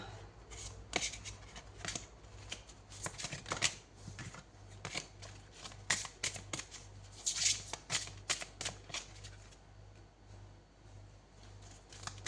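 Tarot cards are shuffled close by in quick, crisp, papery riffles and flicks that go on steadily, a little louder near the middle, over a faint low hum.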